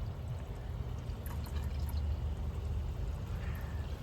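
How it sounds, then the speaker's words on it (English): Coolant gurgling and trickling through the cooling system of a 2012-2019 BMW 320i during a thermostat repair and coolant bleed, a steady liquid bubbling heard outdoors under constant wind rumble. "I hear gurgling."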